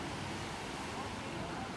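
Ocean surf rolls onto a beach in Phuket at sunset, a steady, dense wash of broadband noise with no breaks, close and fairly loud throughout the short stretch.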